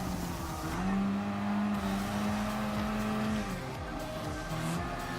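A race car in Gran Turismo Sport drives at speed with a loud, steady engine drone that rises in pitch, holds, and then shifts, accompanied by tyre noise and no talk.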